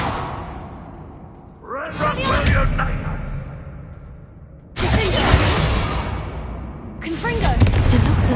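Confringo fire-blast spells bursting in a Hogwarts video game, two loud broadband explosive bursts with crackling debris and whooshes, separated by a quieter gap, with spell effects tailing off between blasts.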